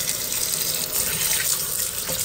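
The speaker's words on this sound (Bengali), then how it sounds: "এখন আমি ধুয়ে ভালো করে পরিষ্কার করে নিব" Tap water runs steadily over goat meat being washed in a sink, a close, continuous splashing flow with no one speaking.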